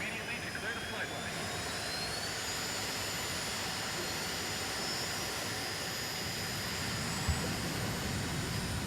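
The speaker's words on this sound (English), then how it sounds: "Mobius 1, take off immediately to clear the flight line." A jet fighter taking off in the video game Ace Combat, a loud steady engine roar and whine that holds throughout, close and continuous, with game radio voices mixed in.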